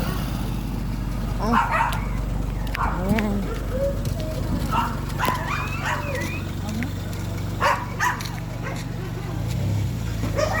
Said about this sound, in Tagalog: Ayan, mga aso ko.